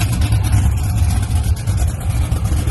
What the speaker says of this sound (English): I had this fired up, so it's gonna crank right up.